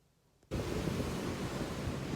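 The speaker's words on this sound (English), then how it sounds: "I hope you can hear me over the wind and the waves" Ocean waves and gusty wind at a beach, starting abruptly after a brief quiet moment and then roaring steadily and loudly as broadband surf and wind noise battering the microphone.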